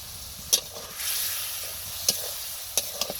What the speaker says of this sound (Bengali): মশলাটাও ভালোভাবে কষে নিচ্ছি তাই এখন মাছটা দিয়ে দিলাম